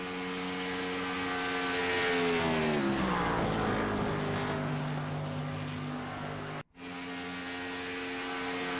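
A race car engine screams past at Auto Club Speedway during a rookie-class Xfinity Series race, its pitch dropping as it sweeps by, then a sustained loud drone that cuts out abruptly for a split second before resuming.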